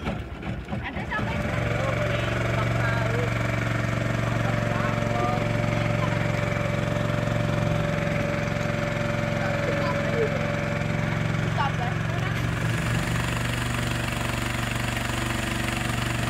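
A motorboat engine drones steadily and loud throughout a roughly 20-minute river boat ride at Green Canyon, Cijulang, with a broadband wash of water and wind, and voices faintly mixed in.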